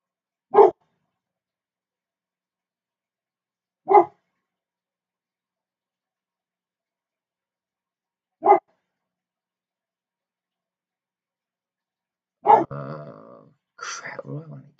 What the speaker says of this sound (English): Sorry about dogs.